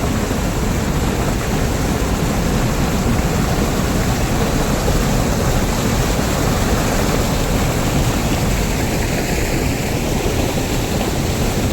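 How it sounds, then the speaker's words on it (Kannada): Water pours over the spillway of the Vanivilasa dam, a steady, loud, continuous roar of rushing falls that holds unbroken throughout with no voices. "ನೀರು ಹರಿಯುವ ಫಾಲ್ಸ್"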